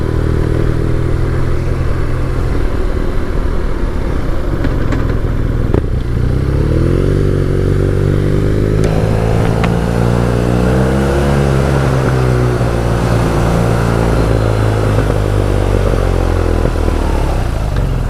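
A 1.2-litre, 110-horsepower, six-gear motorcycle drones steadily while riding, with rising and falling revs through gear changes and constant road and wind noise.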